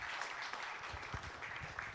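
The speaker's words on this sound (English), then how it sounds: "Let's give them a round of applause." An audience applauds a panel at a conference event, a steady wash of clapping sustained throughout at moderate distance and fairly low volume.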